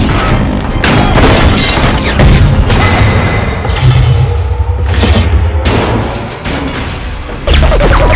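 A Transformers battle scene between Autobots and Decepticons erupts in loud, continuous booms, crashes and shattering debris, with layered explosions and thuds piling up over the full stretch.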